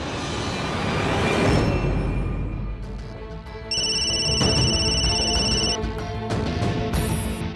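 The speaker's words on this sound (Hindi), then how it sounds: "तू फोन क्यों नहीं उठा रही है?" A phone rings in a Hindi TV drama scene: a steady electronic ringtone with repeating tonal bursts sounding over background music, clear and fairly loud, with no talk.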